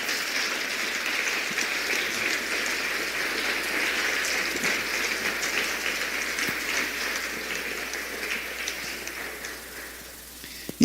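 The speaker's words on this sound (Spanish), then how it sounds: "¿No crees que Jesucristo merece un aplauso?" A church congregation applauding at a Christmas service, dense sustained clapping from a large crowd that sounds almost like heavy rain, holding steady for about ten seconds before tapering off near the end.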